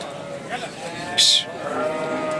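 A lamb bleats at a busy outdoor livestock market in Kadirli, Turkey, one short loud cry rising above crowd murmur and voices in the background.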